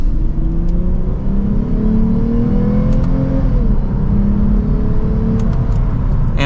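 A 2024 Lexus IS350 F Sport V6 accelerating in second gear in Sport S Plus mode, a loud, smooth engine note rising steadily in pitch from inside the cabin, with no talking.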